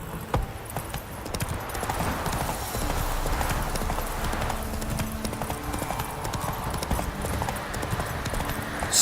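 Roach, a horse in The Witcher 3, gallops with rapid continuous hoof clip-clops over a rumbling bed of game ambience, loud and close, with a brief whinny-like cry and no clear talking.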